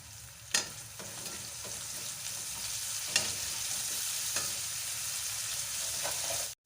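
Onion and green chilli fry with salt in a pan, a continuous crackling sizzle broken by a few sharp stirring knocks near the start and middle, close and moderately loud.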